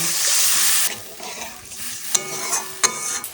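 Hot oil with fried dry spices in a pan hisses loudly, then drops to a softer sizzle as water goes in, followed by stirring scrapes and a few sharp clinks of a utensil against the pan.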